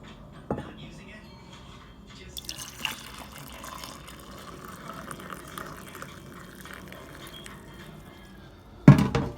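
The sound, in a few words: pouring magnesium oil into a cup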